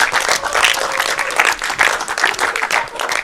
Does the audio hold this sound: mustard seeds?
no